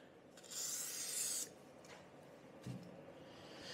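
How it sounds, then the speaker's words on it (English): A Nikasil-lined Lambretta cylinder bore being rubbed down with WD-40: a soft, close scrubbing swish lasting about a second, followed by quieter handling rustles and a light knock. "I rub the bore."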